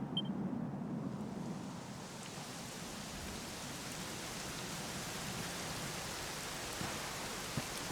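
Rain in the Dragon Quest XI video game falls as a soft, steady wash of even hiss, faint and unbroken for several seconds, with no voices over it.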